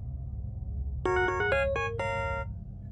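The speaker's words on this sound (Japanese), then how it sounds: "携帯の着信音で目が覚めた。" A mobile phone ringtone plays a short, bright electronic melody of about six clear tones over a low background hum, alone with no voices.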